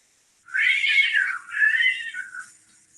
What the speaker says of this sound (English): You hear the cats?